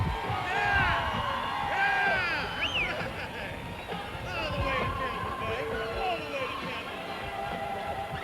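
Dense roar of a sellout crowd of 75,000 at the Orange Bowl for an American football game, a steady wash of cheering, whoops and babble swelling and easing throughout.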